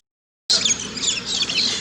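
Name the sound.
bird chirping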